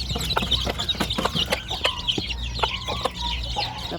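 Mother hen clucking with her chicks on a small farm, a dense run of short clucks and high peeps close to the microphone with steady background chatter.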